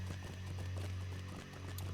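Rapid hoof clip-clops of a horse trotting in the online game Lord of the Rings Online, steady rhythmic beats over a constant low hum, fairly quiet and close.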